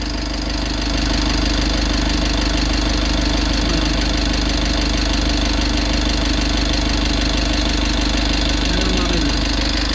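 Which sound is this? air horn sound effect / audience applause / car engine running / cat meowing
car engine running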